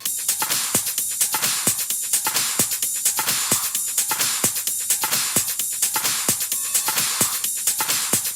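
A repeating electronic drum loop played back in Logic, with punchy kicks and crisp hi-hats, runs at a steady tempo, loud and dense, with no talking.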